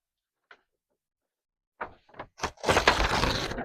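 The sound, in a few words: paper ripping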